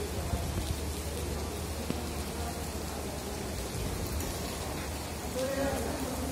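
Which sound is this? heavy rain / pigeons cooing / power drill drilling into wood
heavy rain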